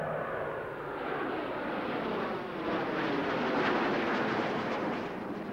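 Six jet aircraft at a 1992 airshow at Grissom AFB roar past together at high speed in a delta formation, making a broad, loud, sustained rushing jet noise that swells and stays steady, with no talk over it.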